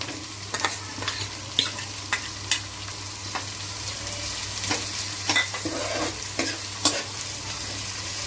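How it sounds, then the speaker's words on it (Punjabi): Onions and garlic frying in a pan for Amritsari pumpkin vadi curry: a steady close sizzle broken by sharp clicks of stirring, with no voices. "ਲਸਣ ਆਪਣਾ ਥੋੜਾ ਜਿਹਾ ਭੁੱਜ ਗਿਆ ਹੁਣ ਇਹ ਚ ਪਿਆਜ਼ ਪਾ ਦਾਂਗੇ"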